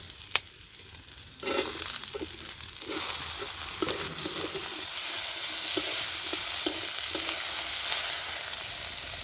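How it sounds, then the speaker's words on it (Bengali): Onion, capsicum and tomato fry in a pan, a bright steady sizzle that swells sharply after vegetables are added, with soft scraping stirs throughout. "পেঁয়াজটা হালকা করে ভাজা হয়ে গেছে। এবার আমি ক্যাপসিকাম আর টমেটোটা দিয়ে দিচ্ছি।"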